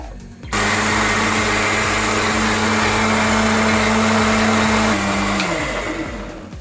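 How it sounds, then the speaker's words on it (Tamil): A mixer grinder blends coconut, fennel seeds and tomato with a loud, steady high-pitched whir. It starts abruptly, holds an even drone, then slows and winds down near the end. "இப்போ இந்த பெருஞ்சீரகம் தேங்காவை போட்டு இப்போ நான் இதில் அரைச்சிக்கிறேன்"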